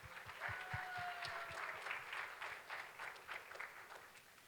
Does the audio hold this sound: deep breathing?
no